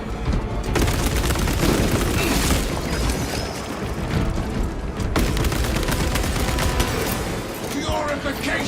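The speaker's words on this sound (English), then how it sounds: "Purification by frag grenade." Heavy booming blasts and gunfire rattle through a chaotic battle in Warhammer 40K Space Marine 2, with a frag grenade explosion among repeated loud bursts and a voice calling out over the din.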